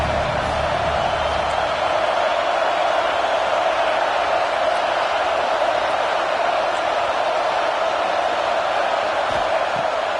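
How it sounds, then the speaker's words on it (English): Broad, steady stadium crowd roar from a college football video game, swelling on a third-down defensive play, loud and continuous. "Decibels rising as the crowd gets behind this defense on 3rd down."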